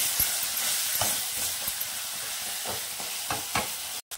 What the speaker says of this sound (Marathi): हे बघा, 1-2 मिनिट चांगला असा पालक परतून घेतलाय.